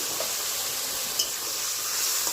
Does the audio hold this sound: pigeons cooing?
no